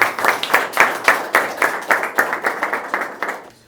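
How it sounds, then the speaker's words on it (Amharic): A church congregation claps together in a fast, steady rhythm, loud and close, with a faint voice barely audible underneath. "የመጨረሻ በኃይል በኢየሱስ ስም አጨብጭቡ ለጌታችን።"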